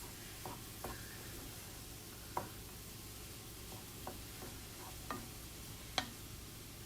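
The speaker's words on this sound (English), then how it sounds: "And 1/4 of a cup of almonds. Stir that." Cauliflower couscous with almonds is stirred in a pan, giving soft intermittent scrapes and light clicks of the utensil, with faint sizzling underneath and no voice.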